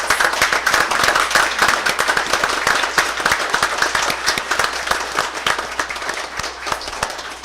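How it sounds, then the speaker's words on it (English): A room full of people at a school board meeting claps steadily for several seconds, a dense, loud round of applause that tapers slightly toward the end. "And if we can all stand and give Omi a round of applause for completing his OFSDP requirements."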